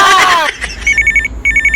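A telephone rings in a repeated electronic trill, two bursts following a brief voice at the start, fairly loud and close over a low background hum.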